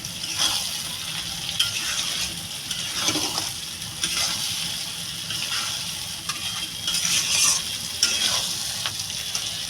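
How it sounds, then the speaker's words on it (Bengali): Coconut malai stir-fried in hot oil for a prawn malai curry at home, a steady close sizzle running throughout with repeated scraping stirs and occasional clinks, no voices. "আর এই মালাইটা এই যে একটু তেলে ভাজা হবে"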